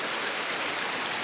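Creek water flowing off Highway 38 near Forest Falls on the way up to Big Bear, a steady close rushing wash with no breaks and no talking.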